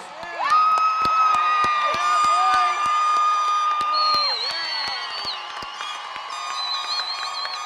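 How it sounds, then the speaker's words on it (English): A graduation crowd cheers and applauds the Montgomery High School class of 2017, steady and loud throughout, with sustained music-like tones running over the noise. "Let's give them a big round of applause."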